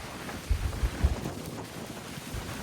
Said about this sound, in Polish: W sumie dobrze, wiatr jest dosyć.